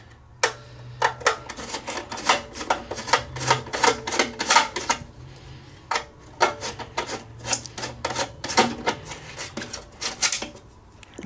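Repeated scraping, rasping turns of a screwdriver working a screw loose from the threaded bracket hardware of a Joslyn MV121 mercury vapor streetlight, in bursts of short close ticks and rubs with brief pauses.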